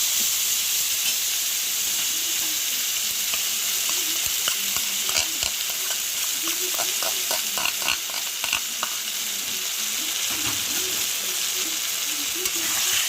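Spice paste with potato, onion and tomato fries in a pan, a steady close sizzle broken by repeated scraping and clinking strokes of a stirring spoon, no voices.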